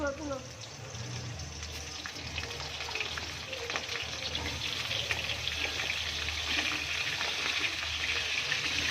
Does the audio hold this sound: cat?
no